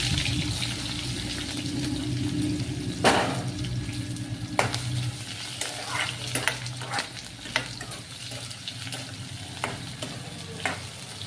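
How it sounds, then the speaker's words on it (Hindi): Onions frying in oil in a bowl-like pan give a continuous loud sizzle, broken by occasional sharp crackles and stirring scrapes, with no talk. "कटोरे में मैंने तेल निकाल लिया है और अब मैं इसमें प्याज डाल देती हूँ।"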